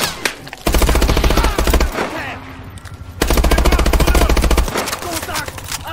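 Automatic weapon fire in Call of Duty: Advanced Warfare, two loud sustained bursts of rapid machine-gun shots with a pause between them, mixed with other game sounds.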